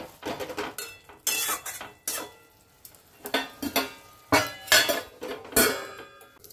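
Spoon scraping and knocking inside a pot as spinach is stirred, with a lid clattering; irregular close metallic clinks and scrapes, fairly loud, no talking.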